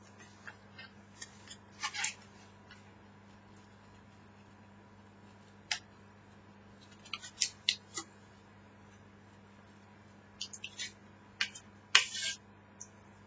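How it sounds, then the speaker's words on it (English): Scissors snip through paper while an origami plane is cut out: faint, scattered short cuts in a few brief clusters, with quiet pauses between them and a low steady hum underneath. "cut with the scissor this portion"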